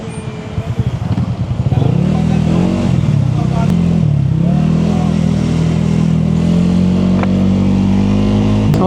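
Honda Giorno 160cc scooter accelerating hard, its engine rising from a sputtering start into a loud, sustained drone with a climbing pitch that levels off, heard close throughout.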